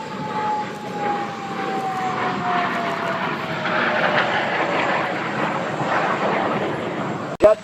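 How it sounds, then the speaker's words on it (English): L-29 jet trainer at an airshow in Airdrie, Alberta, flying a series of rolls, its engine a steady broadband roar with a slowly falling whine, fairly close and loud throughout, ending in a brief sharp burst. "A series of rolls demonstrating the roll rate of the L-29."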